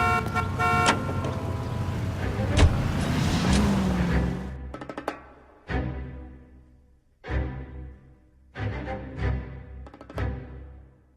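A car driven through city streets in L.A. Noire, engine rumbling steadily with horn toots early on, then fading into a series of short separate bursts of traffic noise and honks.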